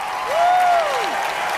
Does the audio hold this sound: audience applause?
yes